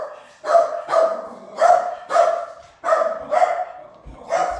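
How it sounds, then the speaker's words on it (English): A pet dog barks repeatedly at a delivery arrival indoors, loud close barks coming in a steady run of about eight sharp bursts. "So she will bark a couple minutes, and I have nobody to get her."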